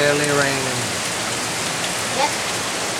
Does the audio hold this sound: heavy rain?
yes